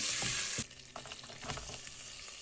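Green chillies and curry leaves hit hot oil in a loud burst of hissing sizzle, which settles into a softer crackle with a few stirring clatters close by.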